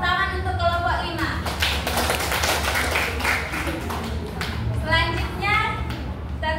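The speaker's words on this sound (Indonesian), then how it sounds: "tepuk tangan untuk kelompok 5" A classroom applauds a student group after their presentation, light tapping and clapping under loud, continuous voices talking over it.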